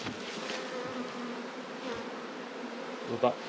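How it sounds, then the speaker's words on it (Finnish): Honey bees buzz steadily around opened beehives during the main honey harvest, a dense continuous drone filling the air with a few louder passes close by near the end. "Ei tänne nyt montaa mehiläistä jäänyt."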